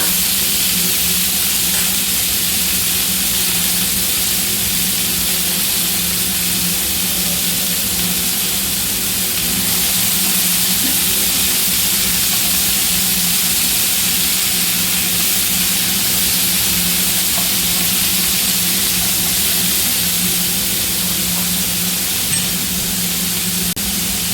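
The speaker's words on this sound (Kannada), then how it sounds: "ಇದನ್ನು ಡೀಪಾಗೆ ಫ್ರೈ ಮಾಡ್ಕೋಬೇಕು." Tomato masala deep-frying in three to four tablespoons of oil in a pan for tomato chutney, a loud, continuous sizzling hiss that runs unbroken throughout.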